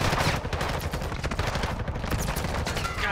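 Dense, continuous video game gunfire with rapid overlapping shots and booms, loud and sustained with no pauses, with no talking over it.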